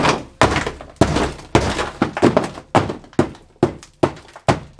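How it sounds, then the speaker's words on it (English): A hammer bangs repeatedly on dry-ice-frozen sound deadening mat inside a Honda Civic, about ten heavy, close thunks with brittle cracking, struck in a steady rhythm roughly twice a second. "I'm gonna bang this with a hammer"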